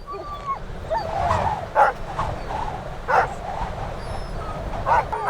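Sled dogs being harnessed for a team run in winter near Churchill give repeated whining yips and short barks, several bursts spread across the stretch, fairly close, with a faint voice in the background.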